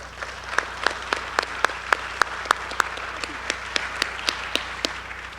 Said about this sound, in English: let's give a round of applause for our former chair